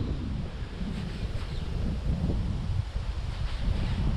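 Steady gusting wind roaring into the microphone while fishing, a constant low rumble with rustling, loud and unbroken throughout.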